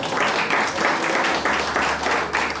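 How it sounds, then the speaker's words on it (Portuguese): A church congregation claps together during a Portuguese-language worship service, a dense, steady wash of hands beating in an even rhythm of about two pulses per second, filling the room at moderate loudness. "a igreja da Alice faz palmas para o Senhor Jesus Cristo"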